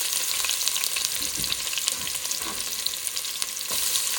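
Continuous loud sizzling of chopped onions frying in a hot pan for vegetable biryani, with occasional stirring scrapes and pops, close up and without voices.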